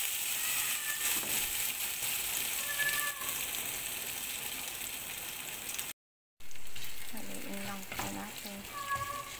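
Ground burger beef sizzles steadily in a hot oiled pan, a dense, close frying hiss that cuts out briefly and then resumes with faint stirring and scraping.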